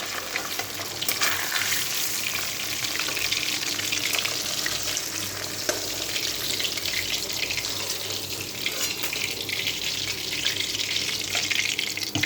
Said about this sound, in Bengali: মাছগুলো আমি ভেজে নিই।